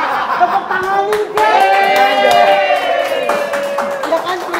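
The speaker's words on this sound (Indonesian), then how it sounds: "Tepuk tangan nih" A studio crowd claps for a singer on an Indonesian variety show, with scattered handclaps under lively talk and a chuckle.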